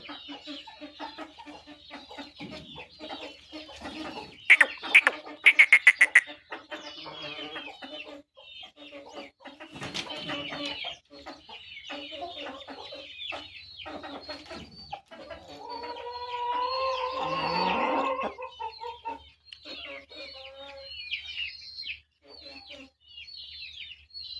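Parrot-beak breed breeder hens cluck repeatedly at close range, with scattered chirps and a louder burst of squawking partway through, continuing throughout.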